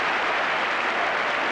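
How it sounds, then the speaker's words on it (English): A large football crowd at a 1985–86 English league match applauds a player's skilful run, a broad continuous wash of clapping from far off without a break. "just listen to the applause of the crowd warming to Chris Waddle's talent"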